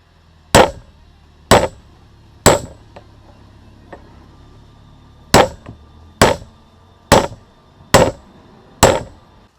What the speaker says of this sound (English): I should be using my bigger hammer for this